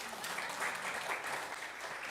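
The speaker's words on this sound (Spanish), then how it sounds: "Un aplauso a la pastora." A church congregation applauds the pastor, dense steady clapping filling the whole stretch at moderate loudness with no voices standing out.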